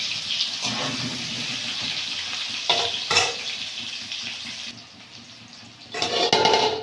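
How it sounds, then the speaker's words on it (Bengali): Potatoes fry in hot oil in a village kitchen, giving a continuous close sizzle with bursts of stirring and scraping, briefly quieter before a loud surge at the end. "লাল লাল করে আলুটা ভাজা হয়ে গেছে"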